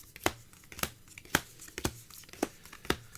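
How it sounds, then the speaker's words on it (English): Magic: The Gathering cards being shuffled close up, a series of sharp papery riffles and snaps repeating at roughly half-second intervals, quiet and with no talking. "I want to get a good shuffle going"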